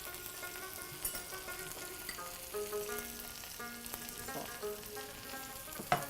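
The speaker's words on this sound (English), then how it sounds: "it's sautéed onions, brown onions, ginger garlic paste, and tomatoes" Onions, ginger garlic paste and tomatoes sautéing in a pan, a steady close sizzle with occasional stirring scrapes and clinks, no talking.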